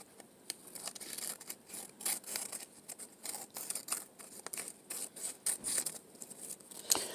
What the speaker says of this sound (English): That way I can cut a little faster by cutting this line here.